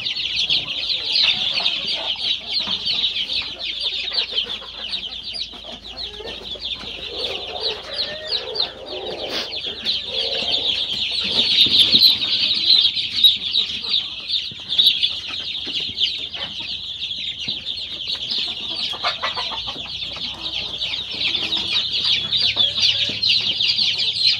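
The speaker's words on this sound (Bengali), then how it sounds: "এগুলো হলো আমার পাহাড়ি মুরগি" A flock of hill chickens clucks and chirps continuously close by, a busy layered chorus of high peeps and low clucks.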